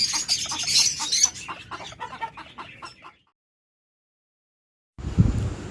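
A pair of pet cockatiels call in quick, chirpy bursts for about three seconds. Silence follows, then a short noisy rustle.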